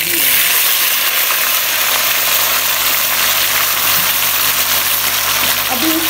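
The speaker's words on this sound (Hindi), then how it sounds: "चलें तो अब नेक्स्ट स्टेप हम शुरू करते हैं, अरबी को करते हैं फ्राई" Pieces of arbi (taro root) frying in hot oil in a pan give off a loud, steady broadband sizzle that runs unbroken from start to finish, with no voices over it.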